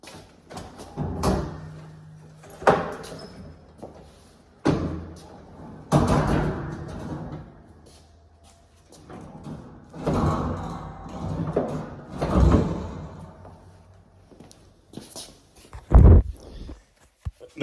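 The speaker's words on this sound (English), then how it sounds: "it just takes a little effort to shut the attic access ladder" A weak-sprung folding attic access ladder is folded and pushed shut in a house, giving a series of wooden knocks, creaks and scrapes with a final heavier thud, near and with no talking.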